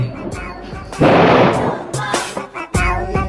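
Jallikattu firecrackers set off outdoors during Diwali celebrations go off in sharp, loud bangs. One big blast carries a crackling tail, and further pops follow close behind, with faint voices in the background.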